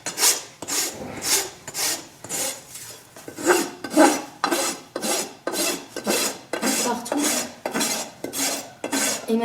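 A farrier's rasp files down a horse's hoof affected by thrush, with about a dozen loud, rhythmic back-and-forth scraping strokes heard up close and no talking.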